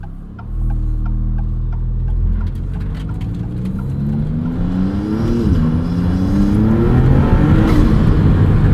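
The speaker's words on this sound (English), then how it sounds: "we're gonna roll a window down just briefly so you guys can hear these turbo noises" Loud, close engine drone of a 2022 Maserati MC20 rising and falling in pitch as it accelerates, heard through a lowered window, with a steady hum underneath and turbo whine building toward the end.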